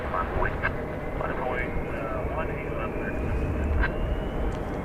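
An airliner at DFW Airport gives off a steady, distant jet roar that holds at an even level throughout, with a faint voice in the background.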